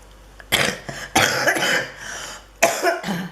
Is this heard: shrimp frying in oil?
no